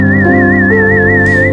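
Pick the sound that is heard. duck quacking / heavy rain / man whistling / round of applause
man whistling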